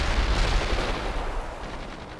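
Rapid, continuous gunfire in the Soviet insurgent mission of World in Conflict: dense, overlapping bursts of rifle and machine-gun shots crackling loudly without pause.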